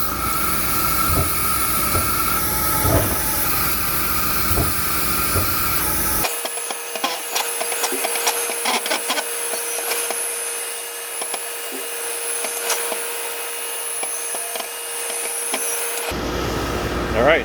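A laser cutter works through parts in a steady whooshing hiss of extraction and air assist, with a harsher, fuller stretch giving way to a thinner, quieter stretch before the roar returns, close and constant throughout.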